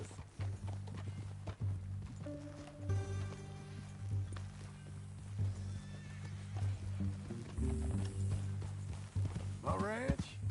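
A horse in Red Dead Redemption 2 neighs loudly near the end while hooves clip-clop steadily throughout, with game character voices talking over much of it.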